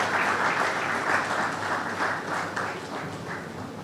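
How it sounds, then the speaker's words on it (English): A crowd at a law week event of a Nigerian Bar Association branch applauds as a keynote speaker takes the stage, a dense, continuous roar of clapping heard from a distance. "Please keep clapping as she makes the stage."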